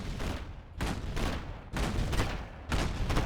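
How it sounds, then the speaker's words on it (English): Tank gunfire crashes out in Command and Conquer: Generals, with three loud, heavy bursts of rapid fire separated by short pauses, close and dense. "The albino scorpion tank is engaging on the red guard."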